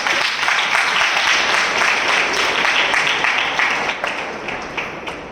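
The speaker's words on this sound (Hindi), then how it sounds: "हम जोरदार तालियों से उनका स्वागत करते हैं" A church congregation at a spiritual gathering claps loudly to welcome believers joining the assembly; the applause is dense and steady, then thins and fades near the end.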